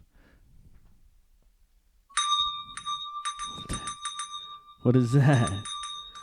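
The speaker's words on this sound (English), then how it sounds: "Just a bell? Do you have a bell app?" A bright bell tone from a phone bell app rings out several times in quick succession, layered over a person talking, followed by a burst of louder speech.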